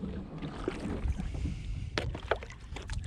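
A kayak glides along a shoreline on a cold, sunny day, with soft paddle splashes and water lapping close to the hull, plus light wind buffeting the microphone.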